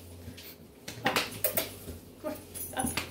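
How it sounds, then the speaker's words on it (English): Dalmatian dog whimpering close by, a few short soft whines and yips over a faint hum, with no one talking. "This is my Dalmatian."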